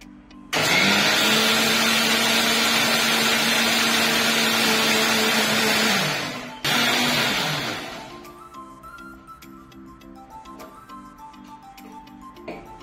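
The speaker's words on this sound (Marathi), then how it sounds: "आता आपण हे मिक्सरवर वाटून घेऊया, एकदम बारीक फाईन अशी पेस्ट करूया" A mixer grinder whirs loudly and steadily as it grinds soaked moong dal into a fine paste. It briefly cuts out and restarts, then winds down into quieter kitchen clatter.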